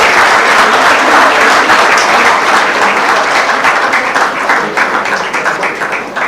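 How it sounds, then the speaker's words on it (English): Loud, dense applause from a large audience at a college law fest prize ceremony, sustained heavy clapping for winners and participants that eases slightly toward the end. "A big round of applause to all the winners and participants."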